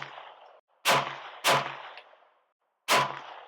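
Gunshots fired at targets: three sharp, loud cracks, the first two about half a second apart and the third after a pause, each trailing a brief echo over soft background noise.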